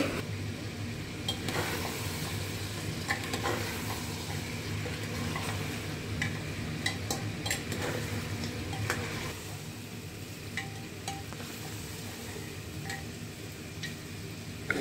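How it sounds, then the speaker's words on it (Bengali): Mutton curry being sautéed in a pan after chui (piper chaba) stems go in, with a steady low sizzle and scattered scraping stirs and clicks of the spoon throughout, close and continuous with no talking. "ডাল চুই দেওয়ার পর আরও মিনিট 5 মতো কষাবো।"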